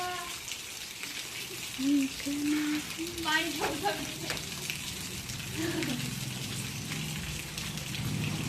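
Light rain falls on a millet field, a steady soft patter with low rumbling beneath, while voices talk briefly over it partway through.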